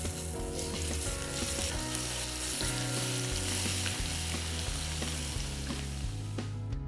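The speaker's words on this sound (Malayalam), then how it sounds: "സെയിം പാനിലേക്ക് ഏകദേശം 1 ടേബിൾ സ്പൂൺ ഒലിവ് ഓയിൽ ഇല്ലാന്നുണ്ടെങ്കിൽ സൺഫ്ലവർ ഓയിൽ ഒഴിച്ചതിന് ശേഷം നമ്മൾ നേരത്തെ മാരിനേറ്റ് ചെയ്ത് വെച്ചിരുന്ന ചിക്കൻ നമുക്കൊന്ന് ഗ്രില്ല് ചെയ്തെടുക്കാം." Marinated chicken grilling in olive oil in a pan over high flame sizzles continuously, partly under loud background music.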